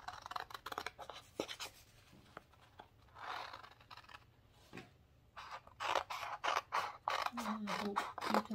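Scissors cut through traced paper in a run of short, close snips and crisp rustles, with brief pauses between bursts and a quicker, louder flurry of cuts toward the end.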